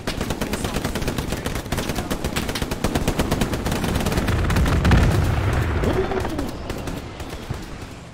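Strafing gunfire in the Hell Let Loose video game at Utah Beach roars as a dense, continuous rattle of rapid machine-gun shots that swells louder in the middle and then eases off.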